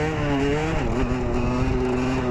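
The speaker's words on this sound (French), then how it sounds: "on va taper un petit wheeling, hein, la moto elle doit être chaude" A 50cc motorcycle with a 70cc kit and exhaust revs up close and loud, its pitch climbing as it accelerates steadily.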